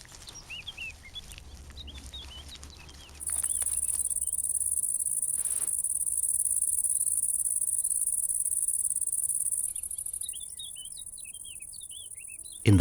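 Bush cricket in a cornfield, a steady high continuous chirring that swells loud and holds for several seconds, with scattered bird chirps before and after.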